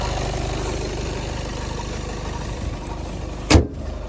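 A Skoda Superb 2.0 TDI diesel engine idles steadily with a low, even rumble, and a brief sharp click or thump sounds near the end.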